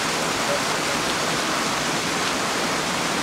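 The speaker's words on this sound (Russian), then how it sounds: "ручьи, которые выходят прямо из гор" Mountain stream flowing straight out of the hills in a gorge, a dense, steady rushing wash of water heard close and continuous with no voices.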